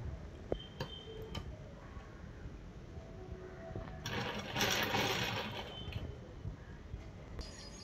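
A sewing machine stitching a top made from an old saree, with a quiet rapid mechanical ticking running through and a few small clicks and handling noises, no talk.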